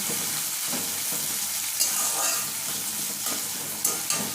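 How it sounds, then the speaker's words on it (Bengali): Chopped tomato and onion fry together in a pan, giving a dense, steady sizzle with occasional stirring clicks and scrapes, close up and without any talking. "পেঁয়াজের সাথে টমেটোটাও ভালো করে পেঁয়াজের সাথে ভালো করে নরম করে নেব"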